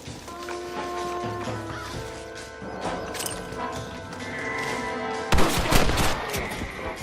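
Gunfire in a Red Dead Redemption shootout: scattered shots and crashes over a busy game soundscape with horses, building to a loud burst of shots toward the end.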